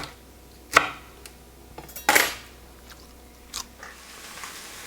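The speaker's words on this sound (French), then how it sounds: "les autres endives, on les coupe en petits bouts" Endives being cut into small pieces with a knife, a few sharp, scattered crunchy chops close by with quiet pauses between them.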